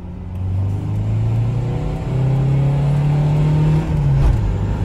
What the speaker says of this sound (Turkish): Çok iyi devir çeviriyor be.